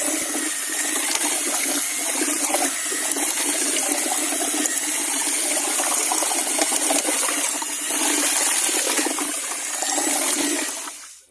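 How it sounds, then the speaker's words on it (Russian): Wet sand is worked through a sieve to remove pebbles, giving a continuous gritty, rattling scrape with small stones clinking, steady and close for the whole stretch. "Потом будем сеять песок, чтобы уже не было камушков."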